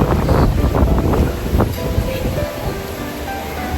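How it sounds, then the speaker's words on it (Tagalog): Strong wind roars across an open beach on Boracay, gusting hard against the microphone with a constant low rush beneath. "Pero sobrang lakas ang hangin."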